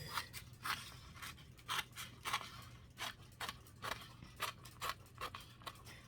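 Repeated snips of book pages being cut for folded book art, steady and rhythmic, close up in a quiet room with no talking.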